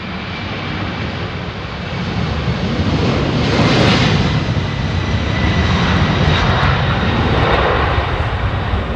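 A super heavy jet airliner departs Heathrow runway 27R, a loud, continuous engine roar that swells to a peak midway and stays strong, heard from nearby without any talking.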